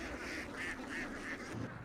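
Ducks quack in a quick rhythmic series of nasal calls on a duck farm field, moderately close over steady outdoor background noise.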